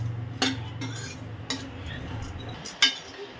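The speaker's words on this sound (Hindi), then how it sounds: "यहाँ पे हम इसके ताकतवर लड्डू बना रहे हैं, तो इसीलिए इसको थोड़ा सा भून रहे हैं।" Ingredients for laddoos are dry-roasted in a pan while a spatula gives a few sparse clinks and scrapes against the metal, quiet and close.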